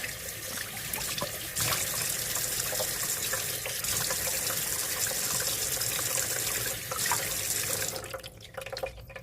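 A bathroom tap runs steadily into the sink while hands are washed, a close, constant splashing rush with slight shifts as the flow is broken, easing off near the end.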